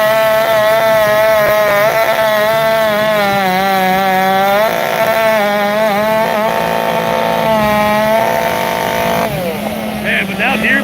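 A Stihl-style 462 chainsaw runs loud and close while cutting firewood, its high whining engine rising and dipping steadily as it bites through wood with no pause.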